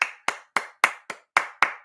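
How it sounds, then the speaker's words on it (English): About eight sharp hand claps ring out in an even, steady rhythm, close and fairly loud with short silences between them, welcoming viewers at the start of episode 17 of the talk show Building with Big King. "Round of applause for that and for all of you."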